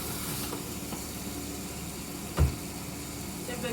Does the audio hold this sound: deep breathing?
no